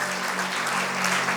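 A congregation claps together to thank God during a Hindi Christian Lent service, a dense continuous burst of applause filling the hall, loud and close with no voice over it.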